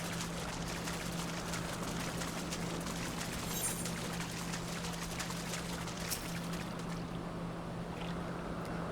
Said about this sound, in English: This crystal appears to be secreting a steady stream of water.